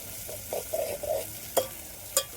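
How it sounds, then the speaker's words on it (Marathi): Raw garlic with peas sautéed in a pan, soft sizzling with a few gentle stirring scrapes and two sharp clinks, fairly quiet and without talk. "तोपर्यंत आपल्याला परतून घ्यायचा आहे मस्त."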